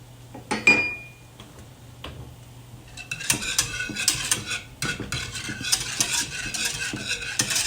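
Butter being stirred into a thick, sticky bechamel sauce in a pan for bechamel macaroni, with soft scraping and clinking of a utensil against the pan that grows busier and steady through the second half.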